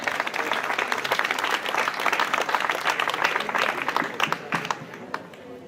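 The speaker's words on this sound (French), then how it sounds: "je vous demande, au nom de tous les élus, à la limite, de bien vouloir applaudir Chiara, qui est toujours à nos côtés." A crowd applauds at a French town civic ceremony with dense, sustained clapping for several seconds, thinning slightly toward the end.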